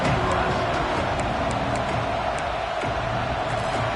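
A packed college football stadium crowd roaring with energy on a big third down, a dense, loud, continuous wall of cheering noise.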